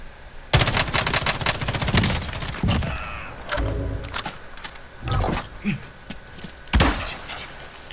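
Bursts of automatic gunfire and single shots from a Warzone battle royale match, loud and close, arriving in several rapid volleys with short gaps between them.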